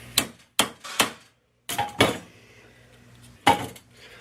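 Six sharp metallic whacks on copper, struck close by in an uneven rhythm with short pauses between them, each ringing briefly.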